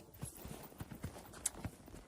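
Horse hooves clip-clop in a steady riding rhythm, a string of fairly close, distinct thuds over about two seconds with no talk.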